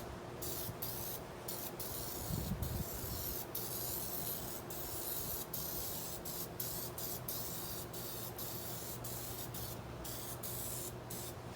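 Degreaser sprays in repeated short bursts onto a greasy surface, a close hiss pulsing in quick succession over a faint steady background hum.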